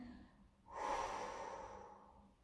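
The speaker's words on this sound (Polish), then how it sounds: "oczywiście pamiętamy o prawidłowym oddychaniu." A single deep breath during a stretching workout, a breathy rushing inhale-exhale that swells and slowly fades, close and fairly soft with no talking.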